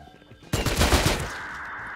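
Video game gunfire during a village raid: a sudden loud blast begins partway through and becomes a dense, sustained roar of rapid shots that slowly fades.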